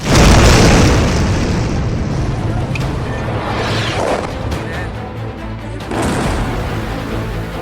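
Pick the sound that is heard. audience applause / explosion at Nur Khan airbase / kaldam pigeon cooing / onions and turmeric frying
explosion at Nur Khan airbase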